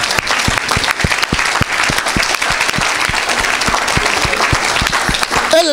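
Church audience at an evangelist's French-language preaching applauding, dense continuous clapping with distinct individual claps close by, loud and steady for several seconds.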